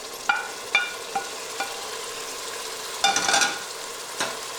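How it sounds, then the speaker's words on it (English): Tomato going into hot oil for urad dal, a steady moderate sizzle punctuated by several sharp clacks and scrapes of a spoon stirring against the pan, no talking. "I will be adding the tomato."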